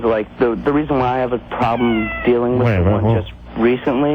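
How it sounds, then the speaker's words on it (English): A cat meows repeatedly in rising and falling cries, mixed in with a person talking over a call-in radio phone line. "What is that? That's the cat."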